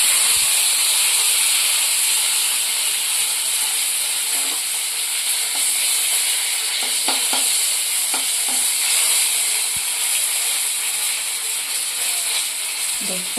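Tomato sautéing in a pan for pirandai rasam, a steady bright sizzle with occasional stirring clicks against the pan, continuous and close with no talk.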